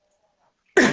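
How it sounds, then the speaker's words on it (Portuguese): A single sharp cough bursts out near the end after near silence, loud and close. "É só tosse, viu?"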